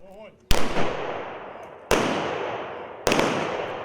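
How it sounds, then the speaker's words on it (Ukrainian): Three sharp, loud rifle volleys of a military funeral salute for a fallen soldier ring out at even intervals, each cracking sharply and echoing away, with faint talk briefly before the first shot. "На знак прощання з воїном пролунав триразовий військовий салют."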